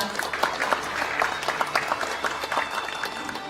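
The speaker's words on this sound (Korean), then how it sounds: "큰 박수 부탁드립니다" Audience applause at a political lecture event as a former heavy-industry executive is invited to the podium, steady dense clapping from a crowd throughout, fairly close and even in loudness.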